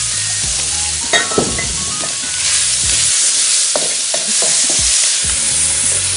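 Chicken stir-frying over very high heat in a pan with sesame oil and ginger, seasoned with salt and pepper; a loud continuous sizzle with occasional scrapes and stirring clatters, no talking.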